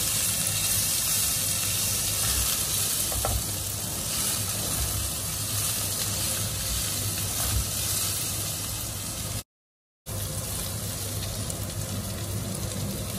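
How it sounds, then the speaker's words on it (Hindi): Capsicum and onions frying in a pan, giving a steady, even sizzle and hiss that runs throughout, close and moderately loud, with a brief gap of silence partway through. "प्याज भुन गई है इसमें हम डालेंगे शिमला मिर्च इनको दो मिनट के लिए भुनेंगे"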